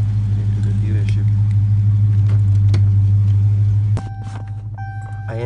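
A stock-exhaust 2018 Dodge Charger Scat Pack idles loud and close on a cold start, a deep steady rumble that drops in level near the end as the revs settle, with someone speaking over it.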